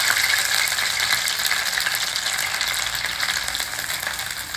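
Batter-coated mold dipped into hot oil sizzles and fries steadily, a dense continuous crackle close up with no talk.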